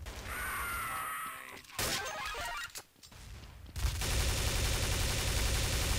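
Loud automatic gunfire and crashing impacts in a Counter-Strike: Source gun game match, with a brief lull before sustained rattling fire resumes.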